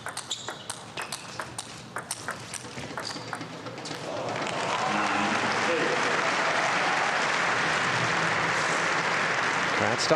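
A crowd at a 2015 German Open men's singles table tennis quarterfinal breaks into loud, sustained applause after a few ball pings, a dense wash of clapping that fills the hall.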